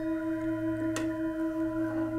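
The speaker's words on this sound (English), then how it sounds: "This is our universal or joint bowl. It has a thin rim, that's why it vibrates a lot." A thin-rimmed Peter Hess universal singing bowl rings with a sustained, steady shimmer of layered tones, and a single soft strike near the middle adds a brief bright accent.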